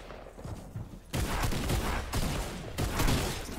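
A tactical shotgun fires in a video game, with a few sharp, booming blasts spaced about a second apart over quieter background game noise, fairly faint overall.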